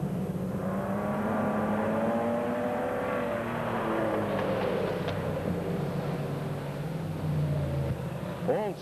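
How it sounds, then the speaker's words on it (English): Stock cars pulling away at the start of a race, a dense roar of several engines rising and overlapping for the whole stretch, with a race announcer talking over them. "All safely into turn 1 and out of it as the start is underway, with Bates still hanging on to the lead"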